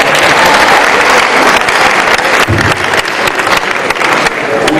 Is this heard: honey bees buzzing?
no